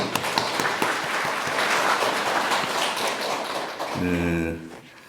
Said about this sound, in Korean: 하나님께 감사하고 또 축복하는 마음으로 한 박수 부탁드립니다.